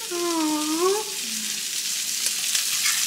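Shrimp frying in a home kitchen pan, a steady close hiss and sizzle running throughout, with a brief voice-like tone at the start.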